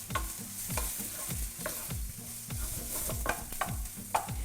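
Food frying and sizzling in a pan while being stirred, with repeated scraping strokes in a steady rhythm over a constant hiss, close and fairly loud, with no talking.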